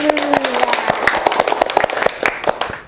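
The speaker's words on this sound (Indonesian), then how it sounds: "Baik, tepuk tangan dulu." A small group of students claps in a classroom at a vocational health school in Bali, a brisk, uneven patter of hands close by, fading out near the end.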